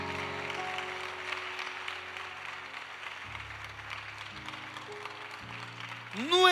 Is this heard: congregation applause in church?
yes